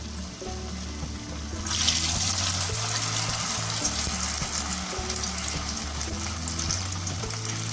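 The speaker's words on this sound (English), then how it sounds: "Now we will fry our pinwheels." Samosa pinwheels dipped in thin maida batter fry in oil over medium heat, a soft crackling sizzle that swells after a couple of seconds and continues steadily with a low background hum.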